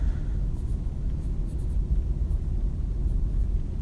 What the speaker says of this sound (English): So on here I'm going to write focal point question mark.